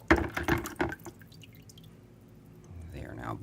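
Two red dot sights, a SIG Romeo 7 and a Sightmark Ultra Shot, splash into a bucket of water. A few close sloshes and drips come first, then quiet settling and a faint swirl of water.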